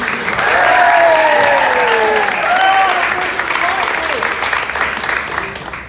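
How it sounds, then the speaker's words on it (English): Wedding guests at a reception applauding the newlyweds, loud sustained clapping from a crowd with cheers and whistles rising over it, easing slightly toward the end. "Can we get a round of applause"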